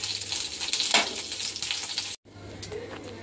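White cumin seeds and curry leaves frying in hot oil, giving a loud, close, continuous sizzle with a brief break partway through.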